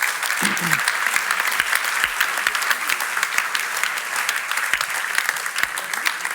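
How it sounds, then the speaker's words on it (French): A French church audience at a talk on God's plan for couples claps for a few older attendees, a sustained, full round of applause with scattered louder claps and a brief voice near the start. "Est-ce qu'on peut applaudir les quelques personnes là?"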